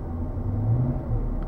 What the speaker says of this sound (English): when I'm just revving it up smoothly